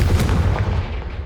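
A Confringo blasting spell in the video game Hogwarts Legacy, a single loud, rumbling blast that booms up close and fades over about a second.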